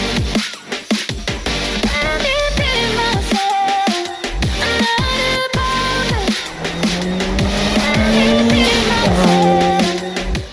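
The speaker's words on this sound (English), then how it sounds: "this is a Mitsubishi Evo 7 RS 2003 model" A 2003 Mitsubishi Evo 7 RS driving, its engine note rising and falling through gear changes with a loud, close drone, sharp pops and a long steady pull near the end.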